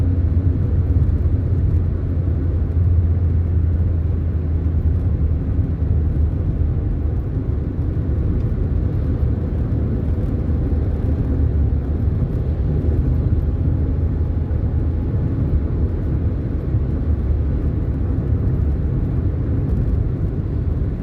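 A steady, loud, low road rumble and engine drone heard from inside a car on a real-time drive through the UK from Wales to England, continuous throughout without any talking.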